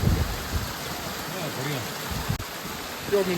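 Glacier meltwater rushes steadily along a cold mountain trail on the Kedarnath trek, a dense, continuous splashing hiss close by, with faint voices beneath.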